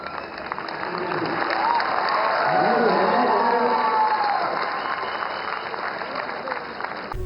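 Audience applause and cheering after a song performance: a large crowd claps densely, swelling to a peak midway then easing, with scattered shouts and whoops mixed in.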